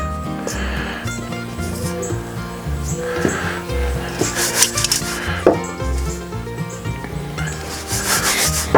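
Mudfish pieces are tossed around in a coating until fully covered, giving a soft, steady rubbing and shuffling that continues under fairly loud background music.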